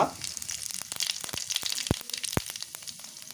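Tempering seeds such as cumin and mustard hit hot oil in a pan, bursting into a close, crackling sizzle with a few sharp, distinct pops standing out over the fizzing background.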